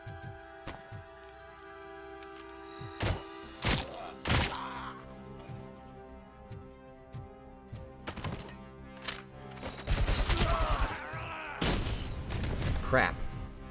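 Shotgun blasts in the video game RoboCop: Rogue City, several loud booming shots, the sharpest around the middle and later ones denser, over a droning game soundscape.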